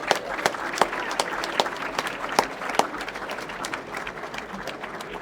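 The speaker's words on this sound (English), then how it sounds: "Let's give them a round of applause." Applause from an audience at a school tie presentation ceremony at Kingswood College, steady clapping with sharp individual claps standing out, moderately loud and without talk.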